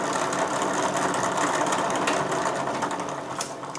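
An electric lathe motor whirs as it spins up, a steady buzzing mechanical whine with faint rattling that tapers off slightly toward the end.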